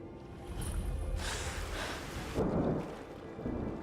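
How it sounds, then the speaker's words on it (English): Pouring rain and rolling thunder off the north coast of Skyrim, a dense hiss of heavy rainfall with low booming thunder swelling and fading in bursts, fairly quiet overall with no voices. "In the pouring rain off the north coast of Skyrim"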